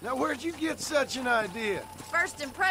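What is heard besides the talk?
No everyday noise stands out behind the speech.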